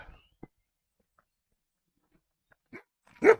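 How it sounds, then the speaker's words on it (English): A big dog barks on an evening walk along a countryside trail by a house, a few sharp separate barks at moderate distance with quiet gaps between them. "And a big dog."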